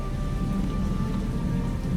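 Rain pours in the naval combat game War on the Sea, a dense continuous hiss of falling water over a deep low rumble, steady and loud throughout.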